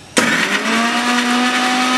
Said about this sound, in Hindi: इन्हें मैं मिक्सी में पीसने जा रही हूँ।